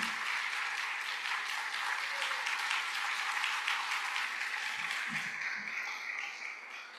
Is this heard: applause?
yes